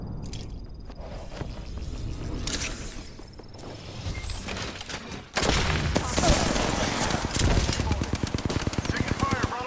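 Bursts of automatic gunfire in the shooter game Apex Legends, starting at a moderate level and then turning into loud, rapid sustained firing near the end, with voices talking over parts of it.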